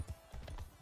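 Horse hooves clip-clop in Mount & Blade II: Bannerlord during a small battle, a few quick, soft hoofbeats at moderate distance under low game ambience.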